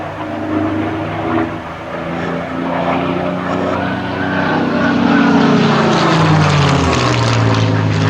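A Spitfire Mk IX fighter flies a display pass, its propeller engine droning loudly and steadily, then swelling and shifting pitch downward as it sweeps past nearby.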